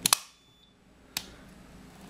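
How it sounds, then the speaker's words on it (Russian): Circuit breaker tripping under a 400 ampere test current: a pair of sharp, close mechanical clacks at the start, a quiet pause, then one more crisp snap, with low hum in between. "Автомат отключился."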